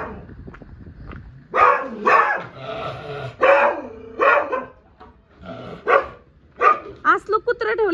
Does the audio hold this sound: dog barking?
yes